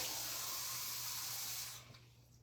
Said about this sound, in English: So add some more water